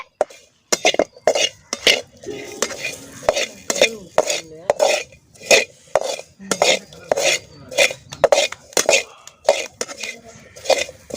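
Lotus seeds being stirred together with chili powder and salt in a pan, a steady run of rhythmic scraping and clinking strokes, close and fairly loud, with no talk.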